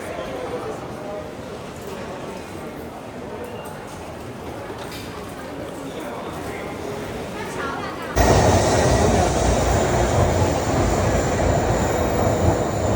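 A Japanese bullet train bound for Osaka rumbles at a station, starting as a quieter low rolling drone, then abruptly becoming a louder, fuller rush and roar partway through, with voices talking over it.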